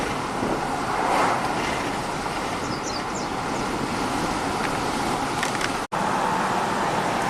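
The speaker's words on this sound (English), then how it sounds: "Car's driving great." A VW Atlas driving along a narrow road, steady broadband road and engine rumble with tyre noise holding throughout, a brief dropout near the end, no talk.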